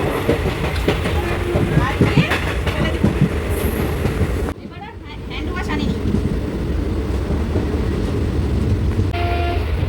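A passenger train arriving from Haldibari toward New Jalpaiguri rumbles steadily on the rails with rhythmic clatter, heard from inside a coach. The noise dips briefly mid-way, and a person speaks over it.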